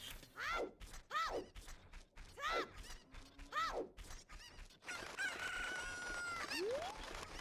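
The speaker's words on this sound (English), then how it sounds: "Alright, let's get chickens again." Cuccos, the chickens of a Zelda game, let out a series of sharp crowing and clucking calls in quick succession, followed by a longer drawn-out squawk, with no talk over them.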